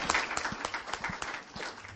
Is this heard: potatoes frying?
no